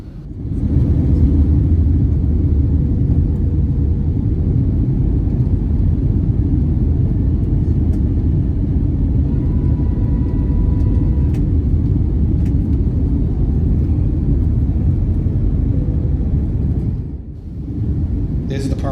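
Loud, steady low roar of airliner engines and airflow inside the cabin as the plane descends toward landing, unbroken for most of the stretch before dipping briefly near the end.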